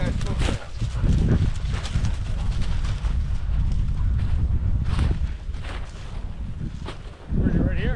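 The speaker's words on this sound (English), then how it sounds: "The wind." Gusty wind buffets the microphone outdoors on a cold pheasant hunt, a loud, steady low rumble with brief dips, and voices occasionally heard through it.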